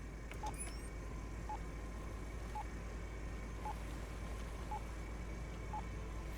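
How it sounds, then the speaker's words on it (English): A locator beacon beeps in the Stormworks video game, short faint tones at a steady interval of about once a second over a constant low engine drone. "It does appear to be beeping a bit faster."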